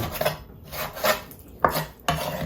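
A knife slices through pork on a cutting board in a Thai home kitchen, with four distinct, close, sharp cuts in an uneven rhythm, each followed by a soft scrape, no talking.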